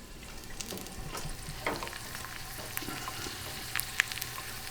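Garlic frying in a pan alongside pasta and broccolini on a gas stove, a steady close sizzle with faint crackles and occasional stirring ticks, no talking.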